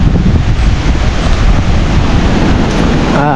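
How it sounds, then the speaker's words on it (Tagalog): Large sea waves surge and break under strong wind on a drizzly day at the shore, a steady loud roar of surf and gusting wind buffeting the microphone throughout, with no voices. "At malalaki ang alon."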